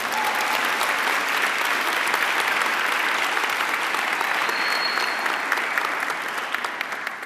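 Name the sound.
audience applause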